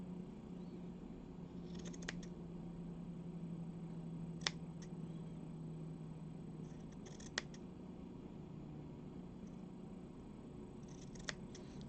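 Scissors trimming an uneven craft piece at an egg-decorating event, giving a few faint, sparse snips spaced seconds apart over a steady low room hum.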